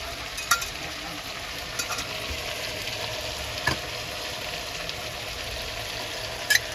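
Chickpea curry with potatoes, whole cumin, coriander leaves and vegetable masala sautéing in a pan gives a steady, moderately loud sizzle, with a few sharp clicks of stirring scattered through.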